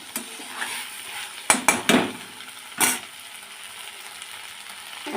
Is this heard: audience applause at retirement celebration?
no